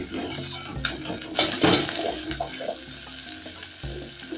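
Onions sautéing in a hot pan, a sizzling hiss with stirring scrapes and a few clatters of a spoon, close by with no speech.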